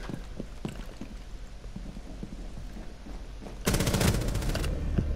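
Gunfire in Rainbow Six Siege, soft footsteps and scattered thuds first, then a sudden loud rapid burst of automatic shots near the end.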